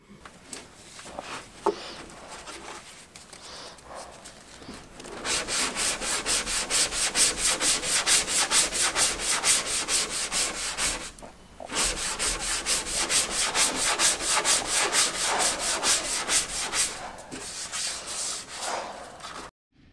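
Sanding on the painted hull of a boat, a loud rhythmic rasping scrub that runs for several seconds, stops briefly, then resumes at a steady pace close by.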